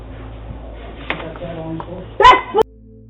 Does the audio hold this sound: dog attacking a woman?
yes